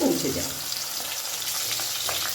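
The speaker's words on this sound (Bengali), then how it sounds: "মাছগুলো ভাজা হয়ে গেছে" Rohu fish pieces fry in hot oil, giving a continuous close crackling sizzle with a brief clatter at the start and no talk.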